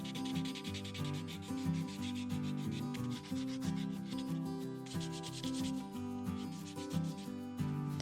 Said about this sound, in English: Just a little bit of sanding and it starts to get this wonderful, soft, rounded feel